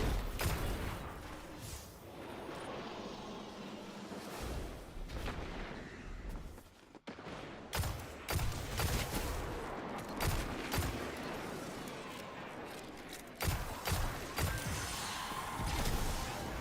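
Rapid gunfire from the video game Destiny 2, sharp repeated shots and crashes over a dense, noisy game soundscape, loud and continuous with brief lulls.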